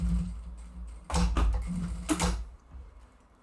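A sewing machine stitches fabric for a small mini pouch in two short mechanical bursts of rapid clatter, close by, with a low hum between them and no talking.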